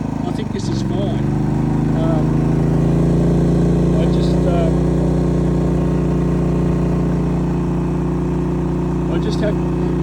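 A Gentrax GS4000-IE inverter generator running steadily at close range, a constant loud mid-pitched engine hum with a slight rise in tone early on, under someone talking intermittently.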